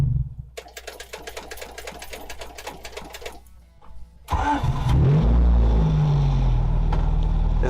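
A car engine is cranked after the key has been cycled a couple of times. A rapid rhythmic starter whir runs for a few seconds, then the engine catches into a loud, close, steady idle.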